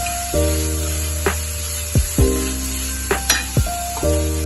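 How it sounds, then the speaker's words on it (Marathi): Masala frying in a pan over a low flame, a steady sizzle and hiss with several short scraping stirs spread through it, close and fairly quiet, with no talking. "लो फ्लेम वरती चांगला परतून घ्यायचा आहे मसाला."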